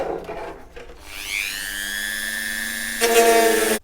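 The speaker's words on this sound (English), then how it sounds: "So with the Dremel and with the 5mm round tool, you can still make it right." A Dremel rotary tool fitted with a 5mm round bit grinds at a hole in a model car bodyshell, whining up to a steady high pitch, then briefly bearing down harder near the end; close and fairly quiet, with no talk.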